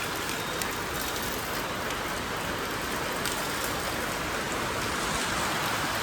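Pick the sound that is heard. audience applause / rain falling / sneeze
rain falling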